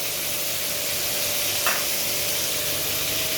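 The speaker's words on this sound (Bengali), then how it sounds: "আলুগুলো আমি লালচে করে ভেজে নেব।" Thin-cut potato pieces fry in a pan as the start of a small-fish curry, giving a steady, even sizzle and hiss with a faint scrape partway through.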